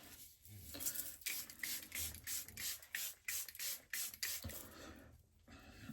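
Makeup setting spray misted onto a face in a series of short, close hissing bursts, roughly eight quick pumps in a steady rhythm with brief gaps between them.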